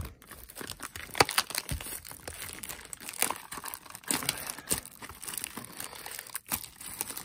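Crinkly plastic wrapping and cardboard being torn open on a Pokémon card booster box, a rapid run of crackling rips and crumpling bursts close to the microphone, with no voices.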